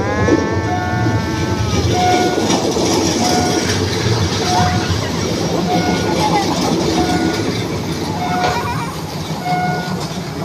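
A train rolls into a station in Thailand with loud, close rumbling and clattering, while repeated horn or whistle tones sound over it and a voice talks in the background.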